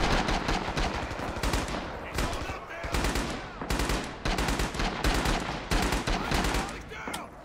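An M1918 BAR fires suppressing bursts in the shooter game Rising Storm, loud rapid automatic gunfire in several sustained strings broken by brief gaps, close and dominant.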